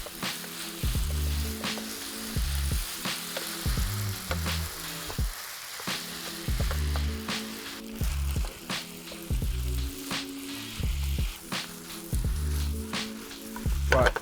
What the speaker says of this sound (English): Gonna throw in the spring onions that we cut, a handful of spinach. I'm just gonna stir those in too.